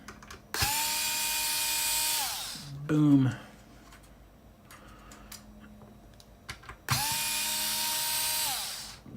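A power drill bores out plastic inside a GameCube console during a GC Loader install, two sustained whirring bursts of a few seconds each, close and loud, separated by a short clatter and quiet handling, with a brief spoken word between them.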